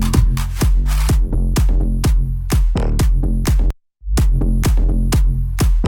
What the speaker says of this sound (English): claps on the kick drum, which makes it more punchy.